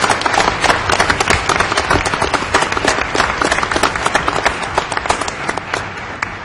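Applause from an audience at a district work session meeting, a steady dense patter of many hands clapping at close range, continuous for several seconds without a break.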